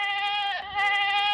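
A goat gives one loud, wavering, nasal bleat, close and alone, dipping briefly in the middle before rising again.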